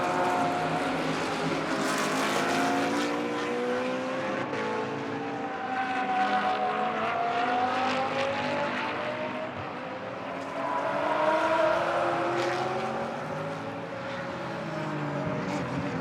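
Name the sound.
Porsche 997 GT3R race car driving out of final corner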